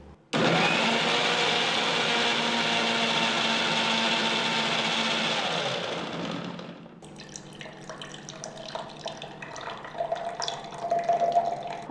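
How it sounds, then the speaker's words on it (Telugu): A kitchen blender whirs loudly and steadily for about six seconds as it purees seedless grapes with water into juice, then cuts off, leaving faint clinks and trickling liquid. "ఇప్పుడు మనం కాస్త నీళ్ళు కలిపేసేసి ద్రాక్ష పళ్ళ రసం తయారు చేసుకున్నాం"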